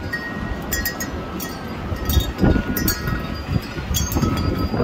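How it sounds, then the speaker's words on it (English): Strong wind during a wind storm in Cleveland, Ohio, a steady loud roar and buffeting against the microphone, with faint clinks and rustling mixed in throughout. "The wind is cold"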